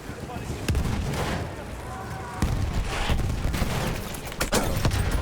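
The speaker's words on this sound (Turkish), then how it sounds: "Patlattık tankı." Battlefield 1 game combat gives a dense wash of booming blasts and sharp gunfire cracks, with a heavy explosion as a tank is destroyed, while a voice talks and laughs over it.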